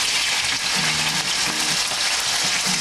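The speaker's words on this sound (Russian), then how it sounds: "Сковородочка наша накалилась, и мы отправляем сюда телятину." Veal sizzles in a hot frying pan, a loud, steady crackling hiss that fills the whole stretch without pause.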